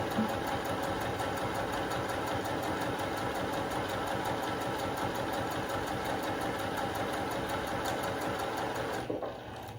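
A sewing machine stitching quilt blocks runs in a steady, close mechanical whir for about nine seconds and eases off slightly at the very end, with no talking.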